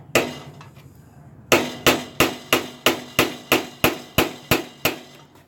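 A hammer strikes repeatedly in a steady rhythm, about a dozen sharp, loud blows close by, following a few quieter knocks.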